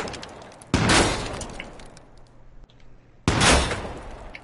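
Two loud, sharp gunshots ring out in the survival game H1Z1, separated by a few seconds, each a sudden crack trailing off into fading echo over a quiet background.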